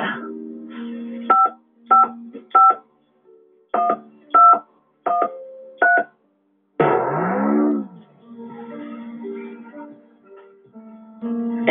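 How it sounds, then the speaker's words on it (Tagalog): A phone is dialed: a string of short keypad tones in quick bursts, then a ringing tone follows in a quiet room. "Manawag na lang ko ni Mark D."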